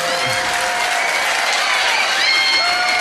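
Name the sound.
quiz crowd applause for the winning team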